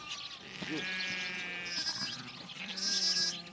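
Sheep in a flock bleat repeatedly at close range, wavering overlapping calls rising and falling over a soft background, some cries louder and longer than others.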